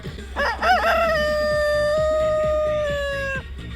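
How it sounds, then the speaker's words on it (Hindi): A rooster crows once, loud and near, in a park in Kaifeng, China at noon: a rising opening followed by a long held, slightly wavering note that drops off after about three seconds. "यहाँ पर सारे मुर्गे अपनी अजान में मसरूफ़ हैं"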